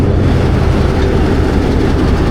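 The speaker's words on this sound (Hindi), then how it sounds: "ये डी अटैच हो रहा है जी लोकोमोटिव 8054" Pakistan Railways locomotive 8054 uncoupling from a Thall Express passenger train, a steady loud rumble of engine and rail noise with faint clatter, close by and without voices.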